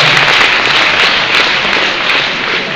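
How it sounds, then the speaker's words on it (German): A live comedy show audience in Graz claps and cheers in a dense, steady wash of applause that holds at full volume for the whole stretch, with no voices breaking through. "Er kriegt immer mehr Applaus wie ich."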